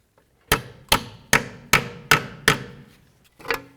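A brake hose clip on a 2007-17 Jeep Compass is hammered back into place with seven sharp, evenly spaced metallic taps, close and loud, with no talking.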